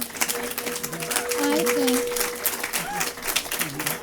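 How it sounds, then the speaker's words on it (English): Lecture-hall audience applauds a 7-year-old boy, a moderate wash of clapping rising and fading over a few seconds, with voices and chatter mixed in. "I think that Wilson is owed a round of applause"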